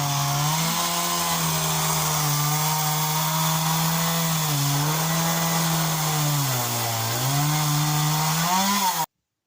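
A petrol chainsaw whines loudly and continuously, its pitch dipping and rising as it bites into wood, then cutting off abruptly.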